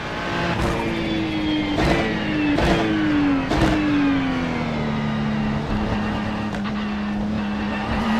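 A GT3 race car in the iRacing sim at Monza, loud engine note droning steadily while several sharp gear shifts cut through in quick succession, the pitch dropping and settling after each shift, with no talk.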